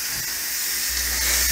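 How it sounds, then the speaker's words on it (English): Steady, loud hiss of steam escaping an Instant Pot during pressure release while cooking baby back ribs, continuous and close throughout. "all that pressure is released"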